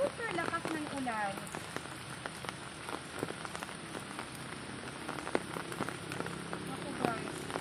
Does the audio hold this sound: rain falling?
yes